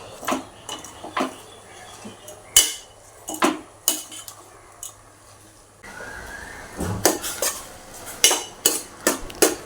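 Amaranth greens with rock salt are stirred in a pan, giving irregular bursts of metal utensil clanks and scrapes with quiet pauses between them, close and moderately loud, with no talking.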